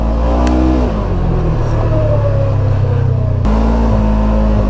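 A Segway Fugleman UTV from 2022 drives hard in 4-wheel drive with its rear end kicking out, the engine roaring loud and close, its pitch rising and falling, with a sudden gear or throttle change.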